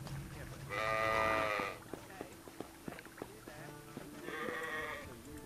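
Sheep in the video game Sacred bleat in two bursts, a long nearby cry and then a shorter one a few seconds later, with soft footsteps and small game sounds in between.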